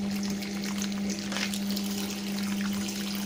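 A makeup brush is rinsed under a running tap, a steady close hiss of water over a low, constant hum, with a brief splashy surge midway.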